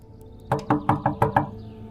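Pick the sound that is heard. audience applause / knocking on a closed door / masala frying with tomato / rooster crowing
knocking on a closed door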